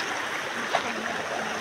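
Flood water rushes through a swollen stream, a steady broadband roar of moving water that stays constant and fairly close throughout, with no voices.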